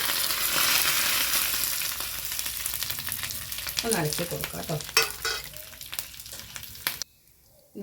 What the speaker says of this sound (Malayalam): നാളികേരം വറുക്കുന്നത് ഞാൻ വേറൊരു പാത്രം മാറ്റിക്കുന്നേ